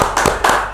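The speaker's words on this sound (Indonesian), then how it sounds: "Tepuk tangan dulu untuk Mr. Puisi, teman-teman." A few seconds of hand clapping for a guest speaker at a discussion session, heard as a quick run of sharp, close claps in even bursts.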